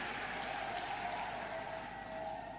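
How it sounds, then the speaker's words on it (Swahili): A crowd applauds Honourable Gwajima at a public environmental event in Dar es Salaam, a faint, steady wash of clapping with no voices over it. "Naomba pia tumpigie makofi mengi Mheshimiwa Gwajima kwa kazi nzuri"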